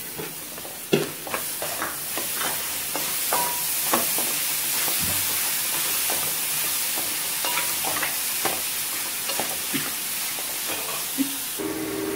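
Amla (gooseberries) fry in a pan on low heat, a continuous close sizzle and hiss with frequent clicking spatula stirs throughout.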